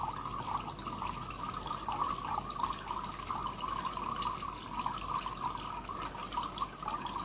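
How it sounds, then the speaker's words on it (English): Water streams out of holes poked in a container during a hydrostatic pressure experiment, a continuous close trickle and splash that runs steadily at a low level without pause and without talk. "when I poke more holes, water flows out"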